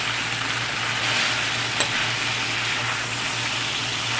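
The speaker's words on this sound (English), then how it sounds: "Now it's frying now. There's no more water left. It's just oil." Steady, loud sizzling of lamb meat frying in hot oil after the water has cooked off, a constant crackling hiss close by with a low hum underneath.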